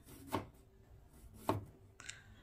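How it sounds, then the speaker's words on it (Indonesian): Two garlic cloves smashed flat with a knife blade on a cutting board, giving two sharp, separate thwacks about a second apart, followed by a brief higher clatter, with no talking. "2 butir bawang putih, geprek begitu saja."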